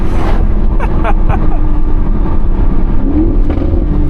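A loud 2017 Audi RS6 (C7) with an Audi Sport titanium exhaust rumbles steadily with a deep, continuous drone and slight rises in pitch, close to the microphone.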